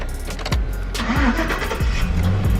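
A lifted truck on 35x12.50 tires: its engine cranks and catches, then runs with a steady mid-pitched rumble, close and loud, with no talk over it.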